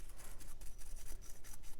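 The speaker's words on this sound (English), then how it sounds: "So you're going to use your blade brush" A small stiff blade brush scrubbing hair and debris out of a dog clipper blade, giving quick rhythmic rasping strokes, close and steady with no talk.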